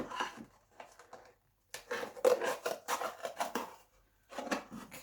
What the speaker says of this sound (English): So I'm just going around the shape of the flappy wing.